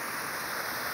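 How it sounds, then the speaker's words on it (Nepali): A waterfall of cold flowing water at a rock garden, a steady, dense rushing roar that holds even and close for the whole moment, with no voices over it. "झर्ना चिसो चिसो पानी"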